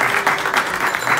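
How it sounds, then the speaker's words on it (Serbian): An audience at a CD launch event gives a round of applause: dense, steady clapping from a crowd that stays fairly loud and close for the whole moment. "aplauz za njega"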